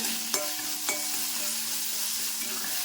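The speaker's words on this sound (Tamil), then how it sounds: "லைட்டாக உப்பு போட்டு வதக்கிறேன்" Onion, tomato, garlic and ginger sauté in a pan with a little salt, giving a steady soft sizzle. Two sharp utensil taps from stirring stand out early, and no one speaks.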